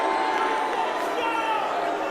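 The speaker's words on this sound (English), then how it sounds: "The crowd is buzzing." Wrestling crowd before a championship match at a PCW Ignition event, a steady dense murmur of many voices filling the space throughout, with no clear cheers standing out.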